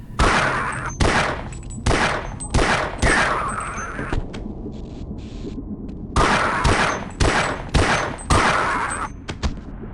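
Pistol shots in Half-Life, fired down a long hallway in a burst of single sharp reports, a short pause, then another run of evenly spaced shots with ringing tails.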